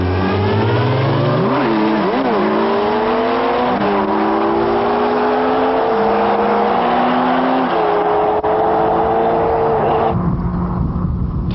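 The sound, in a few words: Kawasaki ZX12R and Suzuki Hayabusa motorcycles accelerating on top speed run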